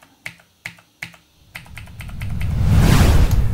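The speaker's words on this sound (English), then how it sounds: "you're going to get the click and the key hitting the bottom of the keyboard" Laptop keyboard keys pressed hard, four distinct sharp clicks with keys bottoming out, evenly spaced, then quicker lighter tapping blending into a rising rush of broadband noise, close and fairly loud.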